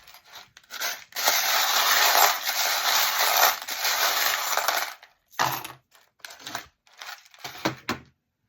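Small metal charms are tossed and dropped for a divination reading. A long rustling, jingling shake is followed by several short clinking bursts as they land, close and fairly loud.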